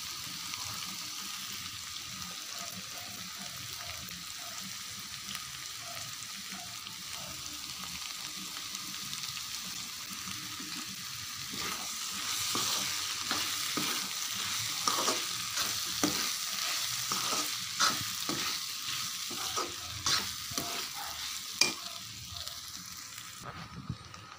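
Rice stirred through a hot frying pan with squash, a constant close sizzle that grows busier halfway, broken by repeated scraping and clattering stirs, with no voices.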